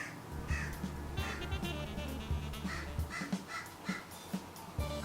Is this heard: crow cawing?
yes